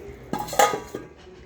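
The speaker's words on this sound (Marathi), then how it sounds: "आता मी याच्यावर झाकणी ठेवते" A metal lid set onto a pot of chicken soup made with whole spices, a few quick close clinks and one brighter clatter as it settles, then quiet.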